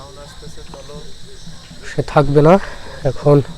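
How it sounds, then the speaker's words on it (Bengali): At night near a cremation ground, crickets chirp as a steady, faint high-pitched trill in the background, while a person speaks loudly over it. "আশেপাশে একদম ঝিঝি পোকার ডাক,"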